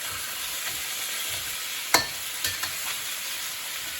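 Chicken wings sizzle and fry in a pan with a steady crackle, broken by a few sharp clicks and scrapes as they are stirred.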